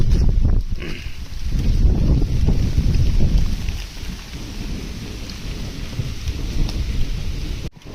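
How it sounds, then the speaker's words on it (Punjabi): Heavy rain pouring down steadily with a deep rumbling wash underneath, loud and close throughout, no voices. "ਲੈ ਭਾਈ ਮੀਂਹ ਗਿਆ ਵੱਧ"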